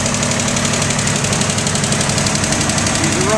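A 1962 Ford F-100 pickup engine running on wood gas from a gasifier burning white oak, idling steadily and loudly up close with a constant rhythmic knock and vibration, no voices.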